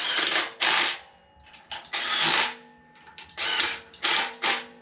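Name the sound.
impact driver driving water pump bolts on LSX engine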